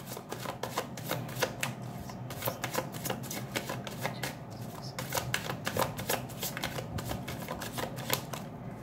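Tarot cards are shuffled close by in a quick, crisp run of riffling flicks and taps, a steady rhythmic patter that carries on for several seconds without talk.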